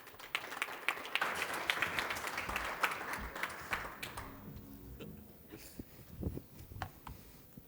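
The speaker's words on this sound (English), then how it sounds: "Big round of applause, please." Audience applause at a business conference panel on state export assistance, steady clapping that fades after a few seconds into scattered claps and faint room noise.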